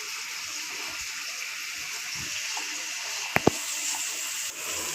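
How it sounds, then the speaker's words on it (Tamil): Two tomatoes being washed under running water, a steady hissing flow with a couple of small knocks near the end, no talking. "2 தக்காளி எடுத்து கழுவிக்கலாம்"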